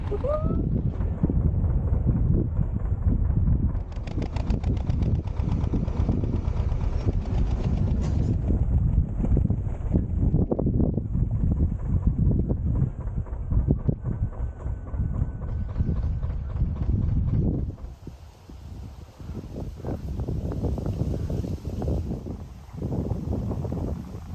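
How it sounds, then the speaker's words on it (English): Strong wind buffets the microphone in a continuous low roar beside a canal, with gusty rumbling throughout and a slight drop in intensity near the end. "Wow, it's gone really, really windy"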